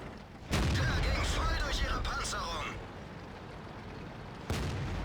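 Tank cannon fire in World of Tanks, two loud sudden booms with a rumbling tail, the first followed by a long decaying roar under talking and the second arriving near the end.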